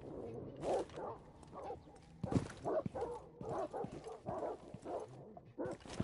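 Vicious dogs barking in Rainbow Six Siege gameplay, a run of sharp, aggressive barks and yips repeating in bursts across the clip, fairly close and loud, with a faint voice murmuring underneath.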